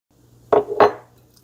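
Utensil scraping and clinking against a bowl while stirring ground beef seasoned with garlic powder, onion powder, paprika and cumin, two close, distinct strokes in an otherwise quiet kitchen.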